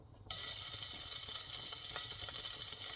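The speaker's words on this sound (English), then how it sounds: "So when it's all heated, we're going to put the bacon in here." Bacon drops into hot oil in a heated pan on a gas stove and bursts into a loud, steady sizzle that continues close up without a break, with no talking.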